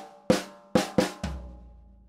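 Two-beat drum fill on snare and floor tom from a Grade 3 rock lesson groove: four sharp hits in quick succession, the last one deeper and ringing out, close and loud with no talking.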